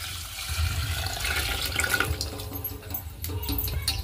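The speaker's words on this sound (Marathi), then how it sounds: "आता याच्यात गरम केलेलं आळणी पाणी ओतून घेऊ आपण." Heated salted water splashes and gurgles as it is poured into a chicken curry of country hen meat cooking on a wood-fired stove, a steady close pour with small sloshing bursts and no talking.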